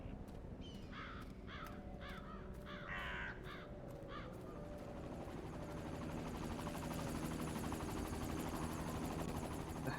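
A helicopter from the video game Kingsmouth gives a steady low rotor drone that swells over ten seconds, while sharp crow caws cut in repeatedly during the first four seconds.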